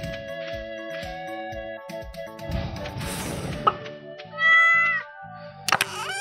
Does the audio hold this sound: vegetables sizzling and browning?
no